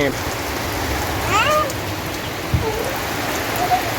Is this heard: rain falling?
yes